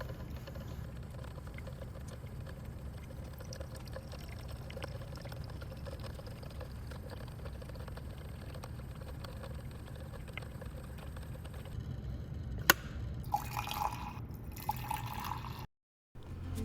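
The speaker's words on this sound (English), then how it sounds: "We're gonna grind it up and then brew coffee with it." Coffee brewing from freshly ground beans: a steady low liquid pour and trickle runs throughout, with a few sharper drips and clinks near the end and a brief dropout.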